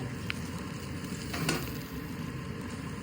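Spiny gourd pieces sautéed in a pan with turmeric and red chili powder give a faint, steady sizzle with a few soft stirring scrapes, heard alone and fairly quiet.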